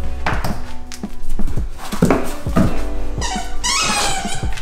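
Dog playing with a squeaky plush Grinch toy indoors: repeated close squeaks and chewing thumps with rustling, the squeaks coming in a quick burst near the end, no talk.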